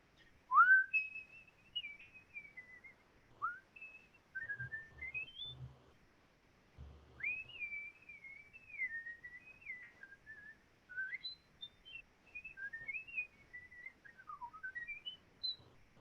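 Someone whistles a winding melody alone, clear and fairly soft, sliding up and down between phrases with short breaths between them.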